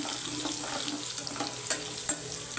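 Curry leaves and crushed garlic frying in a pan while being stirred, a steady close sizzle with a few small scraping ticks, moderately loud, no voices.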